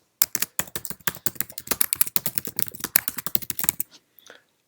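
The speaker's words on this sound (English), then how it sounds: "as you saw me typing that" Rapid typing on a computer keyboard, a dense close run of crisp key clicks in uneven bursts for about four seconds, then a few last taps before stopping, no voices.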